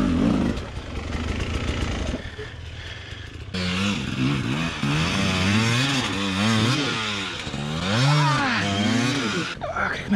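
An enduro motorcycle climbs at a mountain stone quarry, its engine revving loudly and steadily with repeated rising and falling surges of pitch close by.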